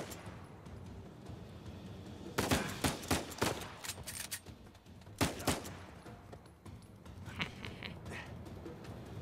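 Gunfire in the game Uncharted 4: A Thief's End, several sharp shots in a quick cluster followed by another close burst and fainter scattered pops, over quiet background ambience.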